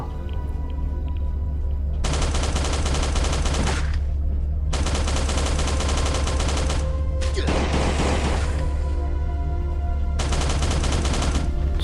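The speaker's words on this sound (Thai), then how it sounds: "ส่วนใหญ่ผมจะใช้ปืนอูซี่แล้วก็ปืนพกนะทุกคน" Uzi and pistol gunfire in the survival game Last Day on Earth, loud sustained bursts of rapid automatic fire repeating in several long strings with brief pauses between them.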